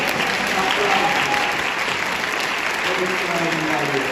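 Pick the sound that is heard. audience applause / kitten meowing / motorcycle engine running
audience applause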